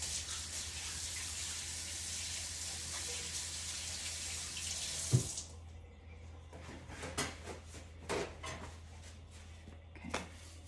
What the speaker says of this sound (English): I'm just gonna rinse my hands quickly